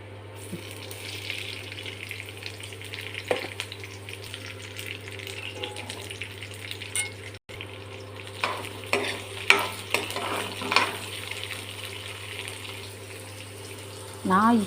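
Washed greens being sautéed in a pan for a Tamil-style dish, with a soft, steady sizzle under repeated scraping and stirring clinks of a spoon against the pan, moderately close and without talk.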